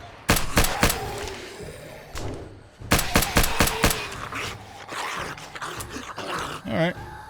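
Gunfire in the zombie survival game 7 Days to Die cracks out in sharp bursts, a cluster of shots then a rapid volley, with a low creature growl and player talk in between.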